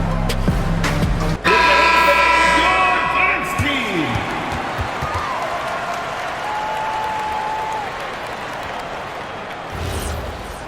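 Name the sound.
arena crowd applauding the dance team at WNBA game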